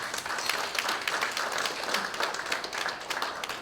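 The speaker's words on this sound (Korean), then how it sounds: "자, 박수 한번 주십시오." An audience applauds during a lecture on filial piety, giving a steady, moderately loud patter of many hands that holds evenly for a few seconds with no speech.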